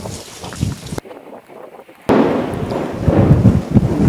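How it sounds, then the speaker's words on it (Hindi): Thunder rumbles and cracks during heavy monsoon rain in Varanasi, a loud, broad roar that drops out for about a second and then bursts back in strongly, with a dense downpour underneath. "बनारस में इस समय बिजली कड़क रही है और घनघोर बारिश हो रही है"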